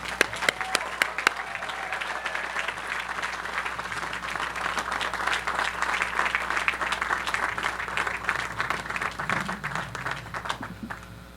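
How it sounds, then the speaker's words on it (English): Commencement audience at a university architecture school breaks into sustained, dense applause for an arriving speaker, loud and steady throughout with scattered cheers and no talk over it. "let's give a big round of applause for Thom Mayne"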